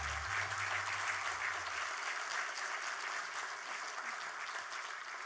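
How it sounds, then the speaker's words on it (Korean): Sustained applause from the audience at the dedication ceremony for Yongin Severance Hospital, steady and dense throughout, with a low hum from the venue fading out after the first two seconds. "큰 박수를 한 번 더 부탁드리겠습니다"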